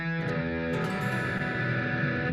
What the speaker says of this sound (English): Big major or minor sounding chords with distortion and stuff.